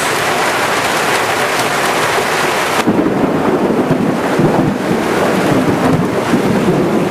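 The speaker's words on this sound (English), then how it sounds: "A pretty good rainstorm here." A loud rainstorm with hail and thunder roars steadily as a dense wash of rain and rumble, briefly shifting character partway through, with no voices present.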